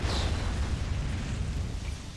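A deep, rumbling explosion roars from Trident fire support in the Rise of the Reds real-time strategy game, a loud, sustained low boom filling the whole moment without speech.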